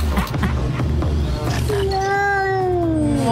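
A cat gives a drawn-out, rising then falling meow, loud and close, after a stretch of muffled rustling and background noise.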